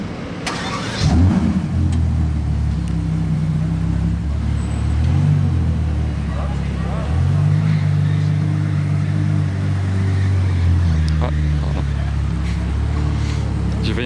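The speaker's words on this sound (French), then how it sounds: "il coupe toujours le moteur, donc ça va faire un start-up" A Bugatti Chiron Super Sport hypercar's engine fires up with a sharp start, then settles into a deep, loud idle with rising and falling blips of revs, close by under background chatter.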